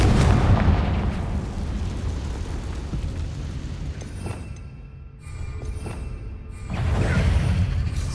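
A Confringo spell explosion in the Hogwarts Legacy video game gives a loud, rumbling blast at the start that fades into a lingering low roar, followed by smaller pops and a second swell of booming near the end.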